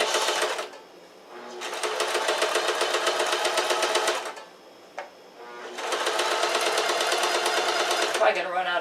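A sewing machine stitches a seam on walking shorts in two long, fast, buzzing runs separated by short pauses, with a brief click between them and a rattle at the end.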